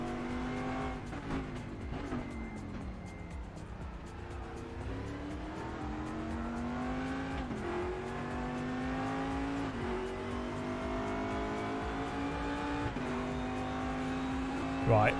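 A race car engine in RaceRoom at Daytona revs repeatedly in neutral, its pitch climbing and falling in waves while the car sits idle, with voices talking under the engine noise.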